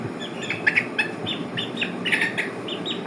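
Chickens and young chicks peep and cluck softly in bursts over a steady hiss of background noise, heard from nearby without any talk.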